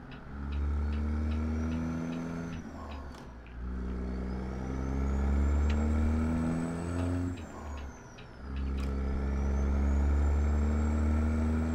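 A Peterbilt 389 hauling a 60,000 lb load of beer in American Truck Simulator rumbles along in a loud, steady low drone that climbs through the gears, with two short pauses at the shifts and a faint high whine above the engine.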